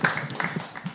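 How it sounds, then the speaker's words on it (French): A small group clapping for a prize winner, heard as a brief, sparse burst of claps at close range, with no voices. "On l'applaudit, elle le mérite."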